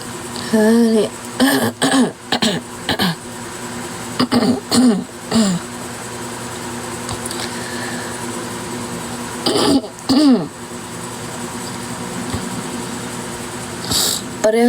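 Several rough coughs and throat-clearing bursts from a person on a livestream, near and loud, coming in short clusters with quiet gaps and a final burst at the end.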